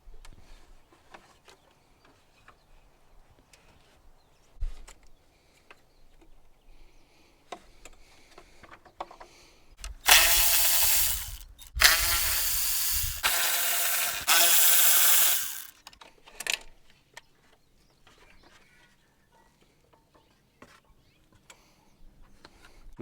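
Fan bolts come off a Toyota Tercel's radiator fan: a loud, rough mechanical burst lasts several seconds mid-clip, with faint clicks and tool handling before and after.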